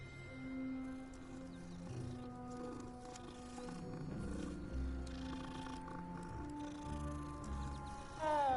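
A cat creature in Hogwarts Legacy gives a low, rumbling growl and purr that rises and falls quietly over soft ambient game music.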